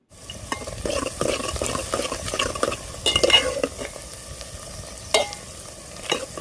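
Onions, green chillies and turmeric being stirred in a pan for a country chicken curry, with irregular scraping and clinking of a spoon against metal over a soft sizzle, a few sharper knocks standing out.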